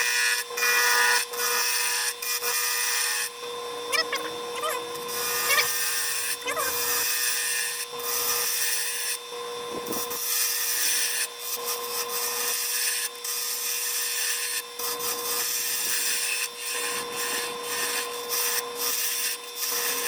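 A roughing gouge cuts a pen blank spinning on a wood lathe, a steady broadband scraping hiss with a constant motor whine underneath, sustained and close throughout with brief dips as the tool lifts.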